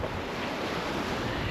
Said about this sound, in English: It never comes across on camera, but these waves are steep and close together.